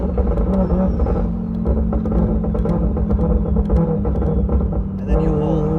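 A BMW B58 car engine idles loudly nearby with a steady rumble, while quick throttle blips rise and fall over it and a voice talks along.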